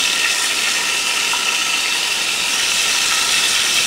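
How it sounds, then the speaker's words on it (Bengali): Tilapia fish pieces frying in hot oil, a steady, dense hiss and crackle that continues evenly at close range with no talking. "এই তেলে আমি মাছটাকে ভেজে ফেলবো"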